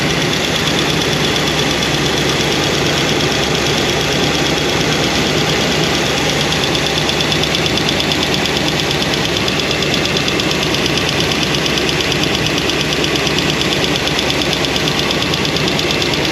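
Hydraulic roller lifter ticking fast and steadily in an idling engine, with a continuous mechanical clatter over a loud, even engine drone throughout.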